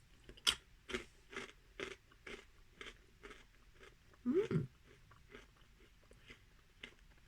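Crunchy curry-flavoured Japanese snacks being bitten and chewed up close, with a steady series of sharp crunches about every half second and one louder, heavier bite near the end.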